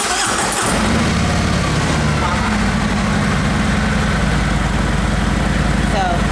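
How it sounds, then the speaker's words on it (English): Harley-Davidson motorcycle engine starting with a brief crank, then settling into a loud, steady, low rumbling idle that runs to the end. "that's how you start your bike"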